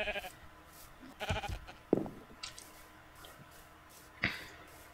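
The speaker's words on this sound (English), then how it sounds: "I'm gonna have to kill a sheep" Sheep in the video game Minecraft let out a few short bleats, quiet and spaced apart over a soft background.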